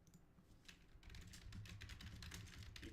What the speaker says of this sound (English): You can probably hear the hell out of that clicking.